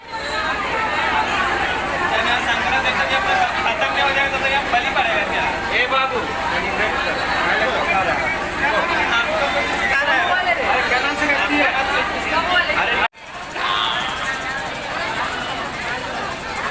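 Devotees crowd a temple in Giridih, their dense, continuous chatter and babble filling the space without pause, with a brief cut in the middle.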